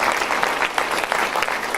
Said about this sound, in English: Y'all give Beth a round of applause and her staff.